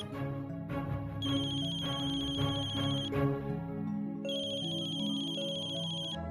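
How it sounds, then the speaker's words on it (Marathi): A telephone ringtone rings in two repeated electronic bursts, with a tonal melodic pattern playing throughout at moderate volume. "फोन वाजतोय."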